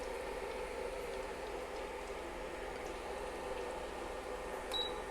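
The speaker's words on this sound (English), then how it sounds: "we're gonna let that sizzle up" Fry bread dough sizzles in hot oil, a steady soft crackling hiss that stays even and fairly quiet throughout.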